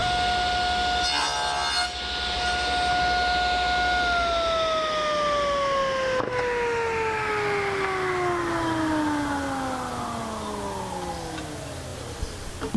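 A power saw on a picture frame jig cuts an angle through 1/4-inch rabbeted frame moulding, a short rasping cut followed by the motor's whine gliding steadily downward as the blade spins down.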